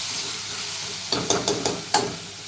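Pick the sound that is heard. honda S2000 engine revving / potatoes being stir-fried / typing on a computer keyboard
potatoes being stir-fried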